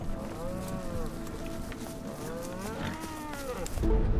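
Ranch cattle mooing repeatedly in long, drawn-out calls over a steady outdoor background, several low bellows overlapping across the stretch, with a louder rumble near the end.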